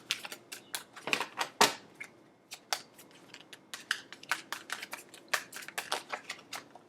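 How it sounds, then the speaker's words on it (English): Tarot cards being shuffled for a zodiac reading, a rapid series of crisp papery riffles and taps in an irregular rhythm, close and fairly quiet, with no talking. "2 more shuffles."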